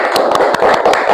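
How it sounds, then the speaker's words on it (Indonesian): A classroom gives a round of applause for group 1, a loud burst of quick clapping from several hands with sharp individual claps standing out. "Kasih aplaus untuk kelompok 1."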